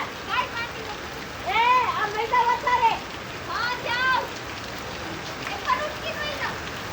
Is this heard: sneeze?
no